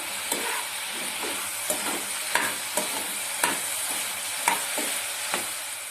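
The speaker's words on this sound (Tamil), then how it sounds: "ஃப்ரை பண்ணி எடுத்து வச்சிருக்க சிக்கன் சேர்த்துக்கிறேன். இது லைட்டா நல்லா மிக்ஸ் பண்ணி விட்டுக்கலாம்" Fried chicken pieces being stirred into a honey chilli sauce in a pan, a steady sizzle broken by regular scraping stirs roughly every half second, close and fairly quiet with no talk.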